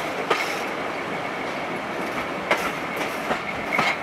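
A Class 50 diesel locomotive, 50015, hauls a train past with a steady heavy rumble, wheels clacking over rail joints at intervals and a faint high squeal in the background.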